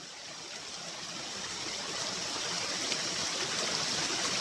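Clear glacier water pours from above in a stream at a waterfall in the Himachal hills near Barog, a steady, close, full rushing hiss that swells slightly and continues without a break.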